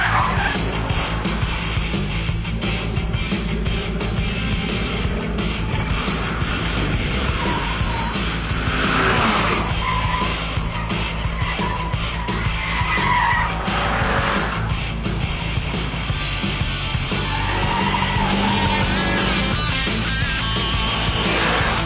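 A Lotus Elise pushed hard around a race track, with tires skidding and squealing almost continuously for over twenty seconds, loud and close under a steady engine roar.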